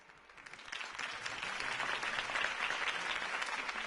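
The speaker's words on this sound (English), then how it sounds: "If only Mr. Wayne, my campaign's largest backer, could have heard that applause" A crowd in the video game Batman Returns breaks into applause that swells and holds steady, a dense wash of many hands clapping at a distance.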